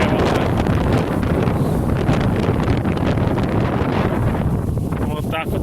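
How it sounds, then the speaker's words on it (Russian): Strong wind buffeting the microphone on a lakeshore at a fishing camp, a constant loud roaring rumble with gusty swells that fill the whole stretch without a break. "Ну, сейчас уже ветерочек может стихнет чуть попозже."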